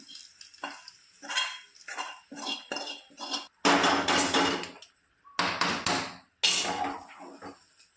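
A spoon clanks and scrapes in a metal pot while bisi bele bath is mixed, with repeated loud bursts of stirring and knocking separated by brief pauses, close up.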